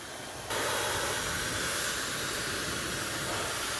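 A Dyson hairdryer switches on after a brief pause and blows a steady, loud, broadband rushing hiss that continues unchanged to the end.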